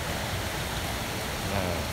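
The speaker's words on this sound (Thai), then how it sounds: "นี่ก็เป็นจุดที่น้ำตกไหลลงมา" The Luang Siriphum waterfall pours down in a continuous, broad rushing roar, loud and close, steady without pauses and with no voices over it.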